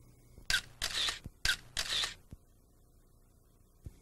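Camera shutter fires while bracketing exposures for photographing scale models: four crisp, close mechanical clicks in two quick pairs, each a sharp snap with a short whir, followed by quiet and one faint tick.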